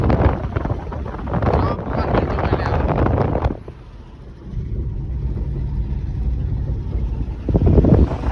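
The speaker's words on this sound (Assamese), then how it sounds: "বতাহটো সোমাই গৈছে চেঁচা চেঁচা" Cold night wind in Titabor buffets the microphone in loud, rough gusts, dropping briefly to a quieter steady rush midway before surging again at the end, with a low vehicle-like rumble underneath.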